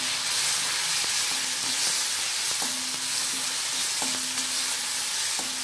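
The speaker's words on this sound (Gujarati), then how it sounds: "તેલ આપણું ગરમ થઈ ગયું છે. થોડું જીરું, હિંગ, અહીંયા મેં 5-6 મરચા અને આદુ લીધા છે." Cumin, asafoetida, five or six chillies and ginger sizzle in hot oil. A loud, steady frying hiss continues throughout, close up, broken by occasional light clicks of stirring.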